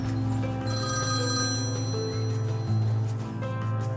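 Cell phone ringing in Farming Simulator 25, a steady repeating ring tone with a bright tonal pattern, loud and continuous over a low background hum, without speech.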